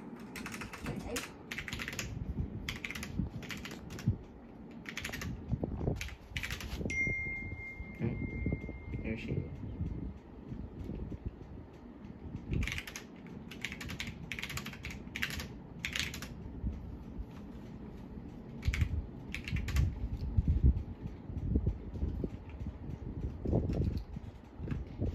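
Fingers tap on a computer keyboard in short, scattered bursts of quick clicks, fairly quiet and close. People talk throughout the typing.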